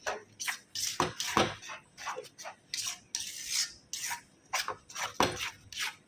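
Thick rice flour batter for kurdai is stirred in a pot, making repeated scraping, rubbing strokes in an uneven rhythm, close and clear with short gaps between strokes.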